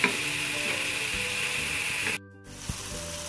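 Sliced onions sautéing in a pan for Malabar chicken dum biryani masala, a dense, close, steady sizzle that briefly cuts out near the end and then resumes more softly.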